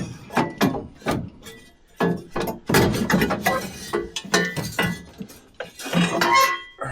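Metal exhaust headers being worked loose and pulled from the engine bay of a 1978 Jeep CJ5, with irregular clanks, knocks and scraping metallic clinks in close, uneven bursts.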